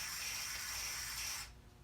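Carb cleaner and compressed air blast through the needle jet of a Keihin FCR carburetor from an early Honda CRF, a loud close broadband hiss lasting about a second and a half before cutting off abruptly.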